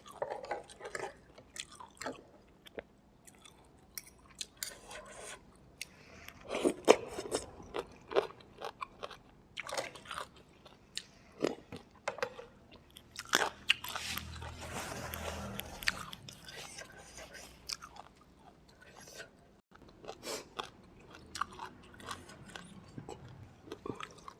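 Close, wet chewing and slurping of rice noodles in a thick coconut fish curry with tilapia, long beans, cabbage and basil, irregular bites and smacks throughout with occasional murmurs.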